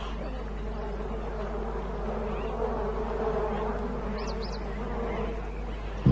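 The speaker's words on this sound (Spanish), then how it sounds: "Intenta beber de un pozo, pero está lleno de abejas." Swarming bees crowd a water hole in hot African bush, a steady, dense insect buzz that hums continuously for several seconds at moderate level with no talk.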